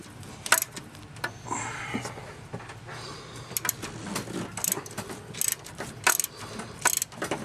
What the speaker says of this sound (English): the brake lines will actually hold the ratchet in place for you